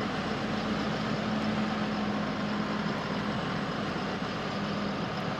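Tractor engine in Farming Simulator 2013, a steady, loud, low droning hum running unbroken throughout with no talk.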